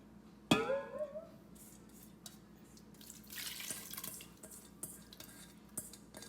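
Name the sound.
water being poured into pot of rice for khichdi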